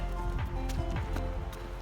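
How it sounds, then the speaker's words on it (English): A trail runner's footsteps pound over rocky ground in a quick, steady rhythm, each footfall close and distinct, with crunching and scuffing between strides. "I'm basically running over rocks at the moment"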